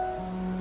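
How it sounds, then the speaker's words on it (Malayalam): Steady rain patters on surfaces outdoors around a home garden, a dense, even wash of drops heard briefly and fairly loud, with a faint tonal hum beneath. "ഈ മഴ ഇപ്പം പെയ്യുന്നു"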